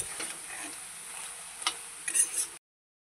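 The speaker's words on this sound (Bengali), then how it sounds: "দেখো আমি মশলাটা কষিয়ে নিচ্ছি ভালো করে।" A spice paste fries quietly in a pan with salt and turmeric, giving a soft steady sizzle broken by a few light clicks and scrapes of a stirring spoon near the end.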